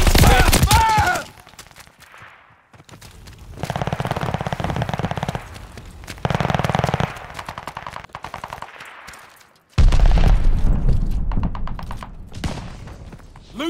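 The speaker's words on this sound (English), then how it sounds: "I'm being shot!" Rapid machine-gun fire in a Call of Duty Vanguard Domination match on the Radar map, loud bursts of rounds cracking near the player in several volleys separated by brief quieter gaps.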